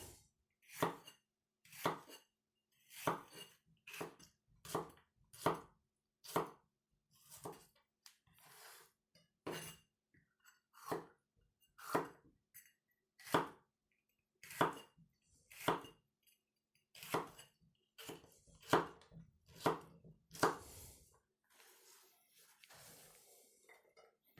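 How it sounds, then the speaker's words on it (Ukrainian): A knife chops bell pepper into thin strips on a board, a slow, uneven series of about two dozen crisp, close thuds separated by short quiet gaps. "ріжемо перчик на таку соломку"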